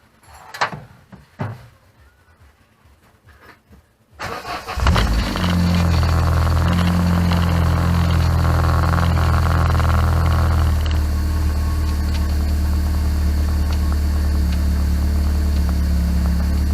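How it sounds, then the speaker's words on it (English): A Classic Mini, just fitted with a new fuel pump, cranks briefly after a few quiet clicks and knocks, then catches and settles into a loud, steady idle with a deep, even engine drone. "Just need to start it up now, make sure it doesn't leak."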